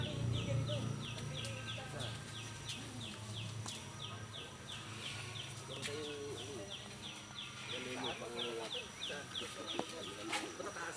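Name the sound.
chicken clucking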